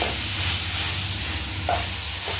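Gobi manchurian stirred and fried in a pan with soy and chilli sauce, a constant loud sizzle with a low hum beneath and a couple of brief spoon scrapes.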